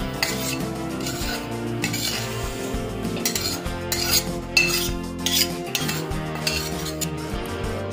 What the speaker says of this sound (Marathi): सर्व जिन्नस एकजीव करून घेतलेले आहेत